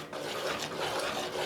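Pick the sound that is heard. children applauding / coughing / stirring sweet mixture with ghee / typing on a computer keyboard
stirring sweet mixture with ghee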